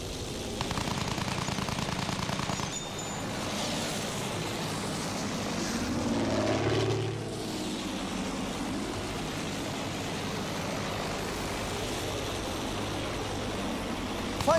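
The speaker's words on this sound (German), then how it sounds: "Flugzeug da oben!" An enemy fighter aircraft in Battlefield 1 roars overhead amid steady battlefield noise and distant gunfire, with the engine drone swelling to a peak midway and then fading back into the continuous rumble.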